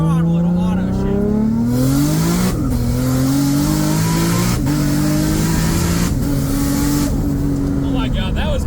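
A 2JZ-powered S14 with an 8HP70 automatic gearbox accelerates at full throttle, its engine pitch climbing steadily and snapping through quick automatic gear changes with brief cuts in between, loud and close, with a voice over it.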